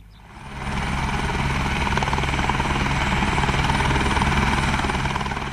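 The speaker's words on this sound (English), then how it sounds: "Firefighters have to be ferried to the fire grounds by helicopter." A helicopter flies over a wetland fire, ferrying firefighters. Its loud, steady rotor drone swells in within the first second and then holds as a continuous close roar, with no voices.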